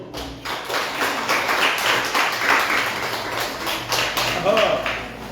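Audience applause at a Fête-Dieu religious gathering, steady clapping from a crowd running the whole time, with a voice speaking over it.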